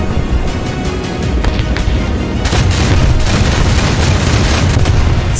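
Anti-aircraft fire and exploding bombs in a WW2 combat video game, a dense continuous roar of gunfire and booming blasts that grows heavier and louder halfway through.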